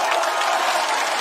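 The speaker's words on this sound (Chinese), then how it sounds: "这个商务值得一个掌声。" A stand-up comedy audience breaks into a short, loud round of applause, a dense, steady patter of many hands with no voices on top.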